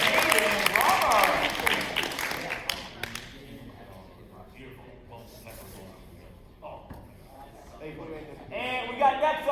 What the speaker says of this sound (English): Let's give Jaden a huge round of applause